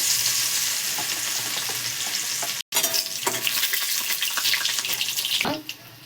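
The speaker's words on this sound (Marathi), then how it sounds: "बघा आपले तेल तापले आता आपण इथे जाडसर कुटलेला लसूण घालते" Coarsely crushed garlic sizzles loudly in hot oil for a bitter gourd dry vegetable dish, a steady dense frying hiss broken by a brief dropout and faint stirring scrapes.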